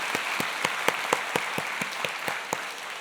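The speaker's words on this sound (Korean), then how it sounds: "우리 이런 선열들에게 큰 박수로 우리 경의를 표하겠습니다." A church congregation at a Korean worship service claps in unison to honor the nation's patriotic forebears, a crisp, evenly spaced beat of about four claps per second lasting roughly three seconds.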